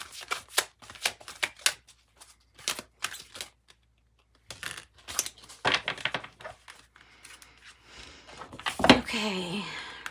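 Oracle cards are shuffled and drawn in quick crisp riffles and flicks, close and clear with short pauses between bursts, followed by a louder rustle near the end, mixed with a quiet voice.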